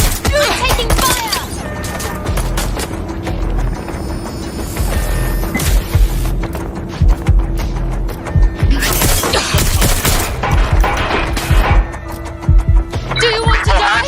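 Gunfire in the video game Watch Dogs Legion, rapid bursts of shots and loud impacts mixed with game noise and shouting voices, dense and continuous throughout.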